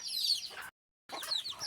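Young chicks of local country chickens peeping in high, thin bursts close by, two short flurries separated by a brief silence.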